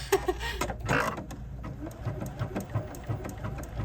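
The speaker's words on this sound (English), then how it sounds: "I'm going to go ahead and start sewing." Juki NX7 sewing machine starting to stitch, with uneven mechanical whirring and clicking bursts up close before settling into a softer, rhythmic running hum.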